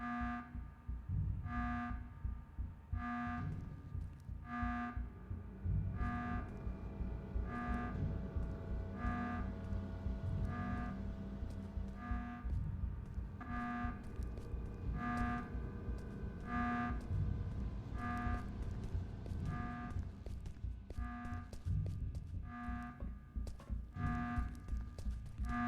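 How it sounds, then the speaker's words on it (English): A pulsing alarm echoes through hallways in the game Go Home Annie, with tones repeating at a steady beat over a low rumbling drone for the whole stretch and no voices. "The sound of that alarm echoing through these hallways."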